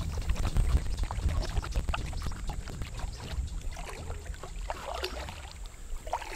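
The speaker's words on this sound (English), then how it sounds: "and I paddle in" A packraft is paddled along a river canal in the Amazon, with soft, steady water splashes and strokes over a broad, quiet background wash.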